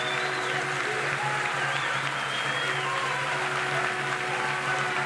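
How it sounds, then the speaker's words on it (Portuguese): Sustained applause from a ceremony audience honoring members of congress at a ministerial swearing-in in a museum hall, steady dense clapping throughout with a faint crowd murmur. "Uma salva de palmas para os nossos congressistas aqui presentes."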